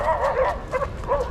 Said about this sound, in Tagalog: Nag-aaway yung aso.